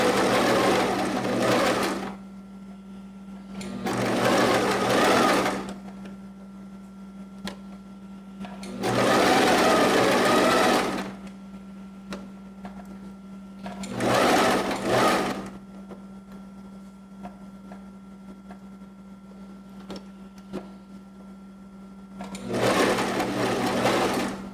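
A sewing machine stitches a 1 cm seam in five separate loud bursts of fast, buzzing needle action, with quiet pauses between runs and no talking.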